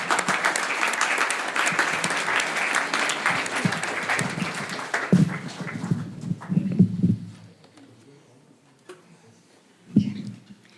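Applause for a painter at an academic event on Iran in the international system: strong clapping for about five seconds, thinning into scattered claps and a few isolated late ones.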